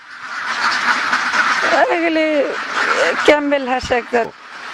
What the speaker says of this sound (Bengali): এই ডিম দেওয়া হাঁসগুলো পালন করছেন